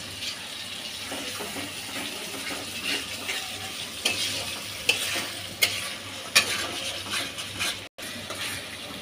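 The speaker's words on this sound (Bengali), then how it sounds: "এই তো এখন সব মশলা ভালো করে কষানো হয়ে গেছে" Coriander, cumin, mustard and green chilli paste fry in soybean oil with a continuous sizzle, broken by sharp scraping stirs and clatters of a spoon against the pan.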